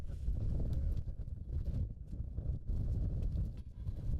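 Strong wind blowing across an outdoor disc golf course during a putt, a steady low rumbling roar buffeting the microphone with brief dips, no talk.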